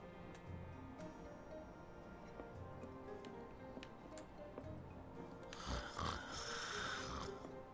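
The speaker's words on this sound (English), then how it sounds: "Nice fake snores, buddy." A character in Final Fantasy 7 Remake fakes snoring aboard a train, with soft, rhythmic snores over a steady background rumble and ticking, then a louder snort near the end.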